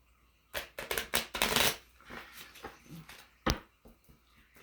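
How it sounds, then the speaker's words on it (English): Harmony Tarot cards are shuffled close up in a few quick riffling bursts, a loud flurry early on, then softer handling, and one last sharp snap. "Give it a one shuffle."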